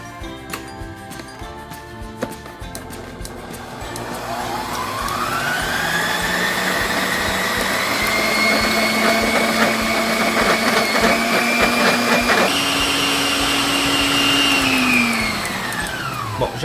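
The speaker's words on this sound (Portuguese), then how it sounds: "agora a gente vai colocar as duas aqui na batedeira" A stand mixer beats sponge cake batter and egg whites with a loud, close motor whine that ramps up in pitch and holds steady for about ten seconds, steps up briefly, then winds down.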